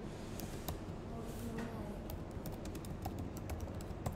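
Typing on a computer keyboard produces a quick, irregular run of light key clicks at moderate distance. A voice speaks faintly over the steady background.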